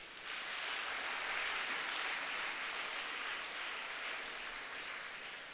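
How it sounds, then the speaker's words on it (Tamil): An audience at an opening-address event claps steadily for the organizing group's members, a dense even wash of applause lasting throughout at moderate level, without voices. "அனைத்து உறுப்பினர்களுக்கும் பாராட்டும் விதமாக ஒரு கைத்தட்டலை கொடுப்போம்"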